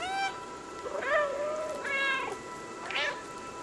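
A cat in the video game Stray meows four times in a row, each call clear and close, rising and falling, with no speech over it.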